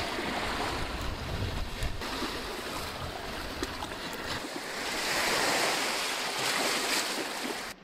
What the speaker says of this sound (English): The wind's at 20 kilometers an hour right now, gusting to 43